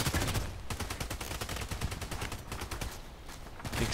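Rapid, loud bursts of HK417 rifle fire in a shooter video game, sharp cracks repeating in a dense, steady rhythm from start to finish with no pauses.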